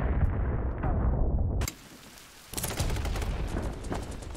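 Loud gunfire in the video game BattleBit Remastered, heavy rapid shots and booms that drop off briefly into a quieter pause before the firing resumes.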